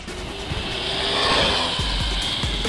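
A WLtoys RC car on a high-speed run, its electric motor whining loud and steady with a rising pitch, tyres buzzing and scuffing over the ground as it passes close by.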